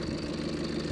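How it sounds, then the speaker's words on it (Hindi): A Tata Altroz's 4-cylinder diesel engine idles steadily, a continuous low, even rumble with a faint rhythmic knock heard close up for under a second. "ये इसका इंजन है, डीजल इंजन जो 4 सिलेंडर आता है"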